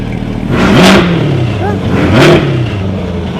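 Corvette C8 in loud exhaust mode, engine rising in two short revving bursts over a steady idle, loud and close, with talk likely mixed in.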